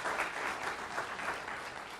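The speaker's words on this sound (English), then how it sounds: "So go ahead and give him a round of applause." Steady, even applause from a lecture-hall audience welcoming a guest speaker, a continuous moderate patter of many hands with no talking over it.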